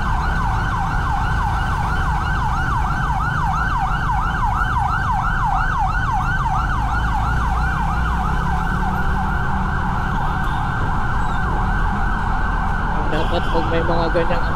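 An ambulance siren wails loud and close in a continuous, rapidly oscillating yelp over road traffic rumble, holding steady for the whole stretch with no talk.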